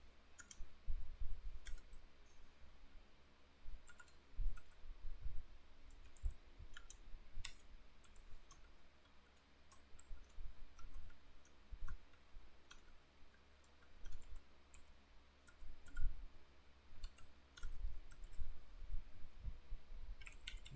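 Computer mouse clicking at a desk while building a web app, a steady run of faint, close, short clicks spread across the stretch with no talk.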